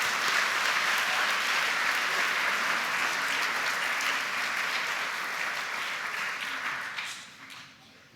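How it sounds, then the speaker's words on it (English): An audience at a middle school awards day applauds 8th graders with loud, sustained clapping that fades toward the end. "Let's give these 8th graders a round of applause, please."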